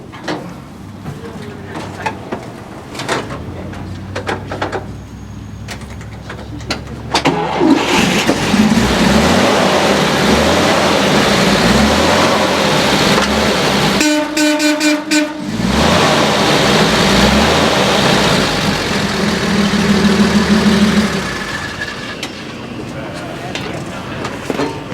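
An old military truck engine cranks and starts, then settles into a loud, rough idle that rumbles for many seconds, with a brief horn-like tone partway through and someone talking over it.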